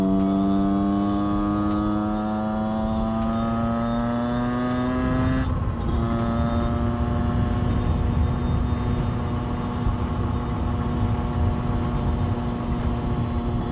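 A modified project motorcycle engine with a Stage 6 RT kit cruises at about 65 with a loud, steady droning hum. Its pitch rises slowly, dips briefly, then settles into a rougher, constant roar as road and wind noise build.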